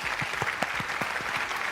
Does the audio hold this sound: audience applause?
yes